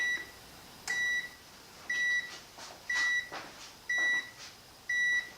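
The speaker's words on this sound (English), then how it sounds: "You'll hear the buzzer go off. to tell you it's finished." An electronic oven timer beeps six times at a steady one-second rhythm, signaling that baking bread is finished, each tone short and clear over a faint background hum.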